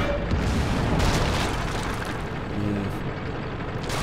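A tank cannon fires at a Panzer IV in a tank video game. Heavy booms roll into a loud, sustained low rumble, with sharper blasts standing out near the start and end.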